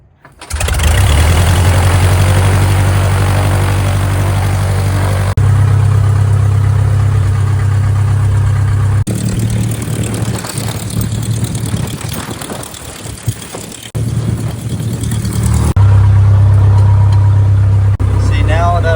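An Aeronca 7AC Champ light airplane engine, hand-propped, fires and runs at a loud, steady idle with a deep throbbing drone close by, and a voice speaks over the engine.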